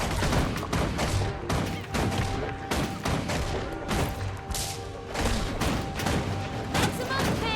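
A deployed turret firing in Guild Wars 2 fighting, a rapid, loud run of sharp shots and bursts with brief gaps, set over constant battle noise and game music.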